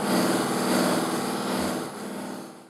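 Buffing wheel of a Beall system turning with White Diamond compound on wood: a steady loud motor whir with a fine rhythmic flutter, easing off slightly toward the end, no talk.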